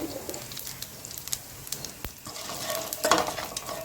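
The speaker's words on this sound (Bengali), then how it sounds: "এক চামচ কালো জিরে ফোড়ন ফোড়নটা খুব ভালো মতো করে ভেজে নিচ্ছি" Black cumin seeds with a bay leaf frying in hot oil for a pabda fish curry, a soft sizzle with light stirring and a few utensil clinks, faint and fairly quiet, no talking.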